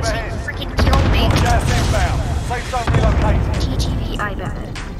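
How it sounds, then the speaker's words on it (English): Cluster strike bombs burst in Call of Duty: Warzone, a loud run of blasts and crackling booms that fill the whole clip, with a voice talking over the din. "Enemy cluster strike incoming."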